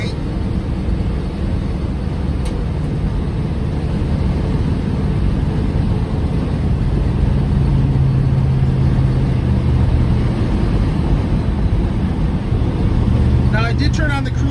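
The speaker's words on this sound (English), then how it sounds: "You got some good power in this V8." Steady, continuous rumble of a 1952 Pontiac Chieftain De Luxe V8 cruising down the road, heard from inside the car, with road and wind noise blended in and no breaks.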